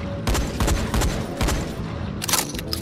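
Gunshots in the zombie game Dying Light, a quick volley of loud, punchy shots in close succession followed by a couple more after a short pause.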